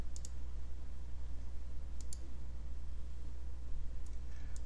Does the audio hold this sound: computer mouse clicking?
yes